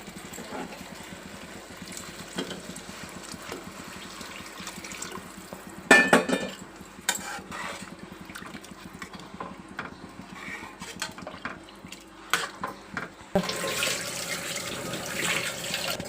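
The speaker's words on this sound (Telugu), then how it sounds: "నీళ్ళు వేసుకుందాం." Water poured into a pot of mango dal curry on the stove, a running, splashing pour with a few clinks of the vessel, fairly close and moderately loud, with no talking.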